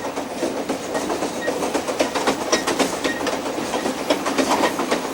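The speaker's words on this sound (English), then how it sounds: "I don't know what it is, the sound, feel, the smell even of the diesel locomotive." A diesel locomotive train runs along rails cut through solid rock on a line across Canada, with a loud, continuous rumble and a steady clickety-clack of wheels from close by and no talk.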